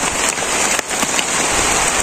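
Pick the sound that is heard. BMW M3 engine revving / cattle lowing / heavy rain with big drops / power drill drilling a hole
heavy rain with big drops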